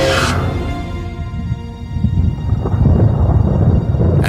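A loud thunderstorm with steady heavy rain and deep rolling thunder rumbling throughout, growing stronger toward the end.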